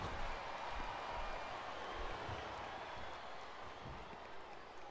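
A virtual arena crowd in the PlayStation 2 wrestling game WWE SmackDown vs Raw 2007 cheers and claps, a faint, steady roar of distant applause with no voices on top.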